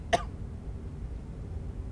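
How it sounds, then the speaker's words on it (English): A single sharp cough bursts out near the start, then fades to a quiet room hum with no further sound. "that cough snuck up on me"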